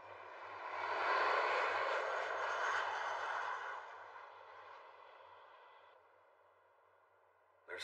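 An airplane engine drones during flight in a video game, swelling to a loud roar and then slowly fading to a quieter, thinner hum, with a sudden sharp sound at the very end and no voices.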